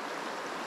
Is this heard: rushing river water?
yes